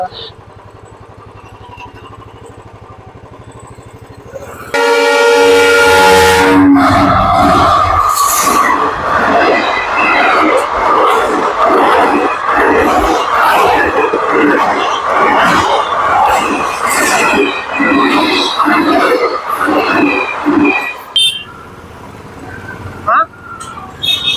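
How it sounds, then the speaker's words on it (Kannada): A loud Bengaluru–Mysuru train rushes past close by, its rumble and rattling wheel clatter filling the clip after a horn-like burst, then fading at the end. "ಬೆಂಗಳೂರು ಟು ಮೈಸೂರು ಟ್ರೈನ್ ಬರುತ್ತೆ ಇವಾಗ"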